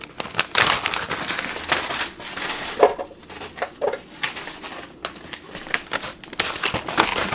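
Frozen strawberries and raspberries tumble into a container for a smoothie, a run of crunchy clattering knocks and crinkles in irregular bursts, close by with no one talking.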